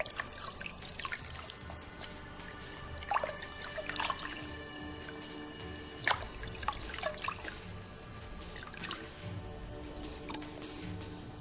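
Tie-dyed fabric being rinsed of excess dye in a bucket of water, faint sloshing and scattered drips with soft splashes, quiet and close.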